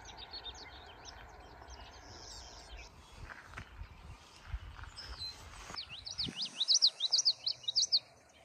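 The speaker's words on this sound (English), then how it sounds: "There's a bobolink right in here." A bobolink singing outdoors at sunrise in Michigan's Upper Peninsula, bubbling bright phrases that swell louder and closer toward the end, with other faint birds and soft rustling in the background.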